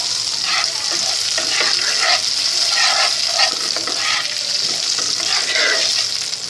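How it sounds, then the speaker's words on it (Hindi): Steady crackling sizzle of cumin seeds frying in hot oil until lightly browned, with occasional stirring scrapes, continuous and close throughout. "हमने जीरे को हल्का सा ब्राउन करना है इसमें"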